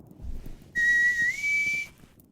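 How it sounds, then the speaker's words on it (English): A grass whistle in the video game Sekiro gives a single clear, reedy tone of about a second, rising slightly in pitch partway through, against a quiet background. "That's my grass whistle."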